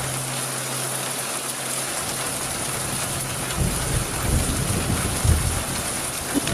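Steady heavy rain on a night roadway picked up by a security camera, a constant broad hiss with some louder spattering bursts toward the end.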